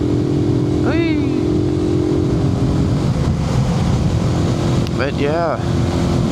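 A Suzuki TU250X motorcycle engine drones steadily with wind rush during an evening ride, picked up by a helmet microphone, while a rider speaks briefly over it.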